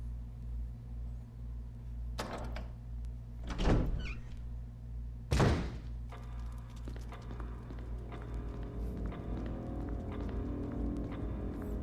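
A door opening in the video game Resident Evil Remake, with sharp heavy knocks and creaks followed by a rising rumble, heard over a constant low hum.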